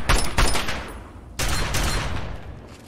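Assault rifle fire in Fallout 3, two loud close bursts of rapid shots separated by a short pause, with no talk over them.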